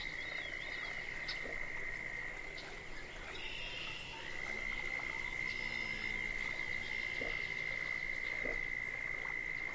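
Frog croaks rise from a Florida Everglades marsh in the fishing game Fishing Planet, several calls scattered over a constant high-pitched insect hum and dense swamp ambience.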